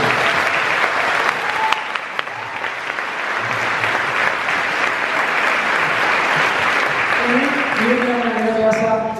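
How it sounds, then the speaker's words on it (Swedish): Warm applause from an audience at a live school music concert at a music college, sustained clapping filling the room for several seconds, with a voice beginning to speak near the end. "det är en varm applåd"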